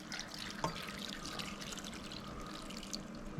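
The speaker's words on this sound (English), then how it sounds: "I'm going to cover this with water." Water pours steadily into a pot over chunks of red onion and other ingredients for Kenyan tumbukiza stew, a close, continuous splashing trickle with one brief clink, and no talking.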